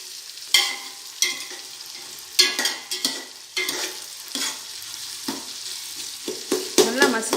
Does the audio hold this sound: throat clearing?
no